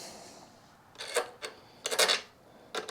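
A hex key tightening ring bolts on a SW-Motech magnetic tank bag mount on a 2024 BMW 1250 GSA, giving a few short scraping, ratcheting bursts separated by quiet gaps, close up.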